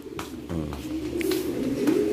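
Racing pigeons coo in soft, throaty, repeated bursts, close by and fairly loud, with low rolling calls overlapping through the whole stretch and no talk.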